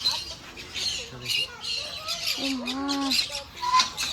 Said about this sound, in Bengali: বিদেশি বিদেশি টিয়া নাকি? এটা বদলি পাখি।